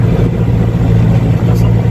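Modified-pump Tumosan 5455 tractor engine under heavy load pulling a subsoiler, a loud, steady low diesel drone that holds throughout with no talk.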